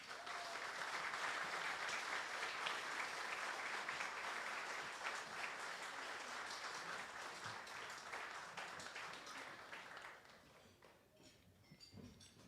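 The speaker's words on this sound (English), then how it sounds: "let us welcome all these fantastic teams and give them a round of applause" A crowd at a Guam Chamber of Commerce gubernatorial forum gives sustained, dense applause for about ten seconds, steady at first and then gradually thinning out into a few scattered claps.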